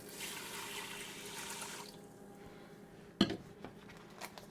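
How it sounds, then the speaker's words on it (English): Water pours onto brown rice in a ceramic bowl, a steady broad wash for about two seconds that quiets to a low trickle, followed by a sharp clink and a few soft knocks. "To this, I'm going to go ahead and add 2 cups of water."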